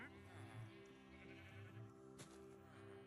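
Sheep bleat softly several times in the video game Minecraft, over a quiet, droning background, with faint talking mixed in.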